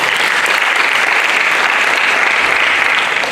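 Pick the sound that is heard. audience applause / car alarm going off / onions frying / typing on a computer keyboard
audience applause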